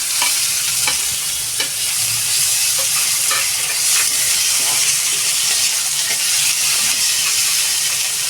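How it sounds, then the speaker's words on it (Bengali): Chopped tomatoes and green chillies hiss and sizzle steadily in a hot pan of spiced oil for a spicy home-style egg curry, with occasional stirring scrapes and no talking. "এবারে আমি টমেটোগুলো দিয়ে দেবো"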